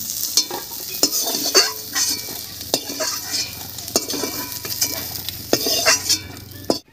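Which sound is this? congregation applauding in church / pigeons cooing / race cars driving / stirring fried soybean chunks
stirring fried soybean chunks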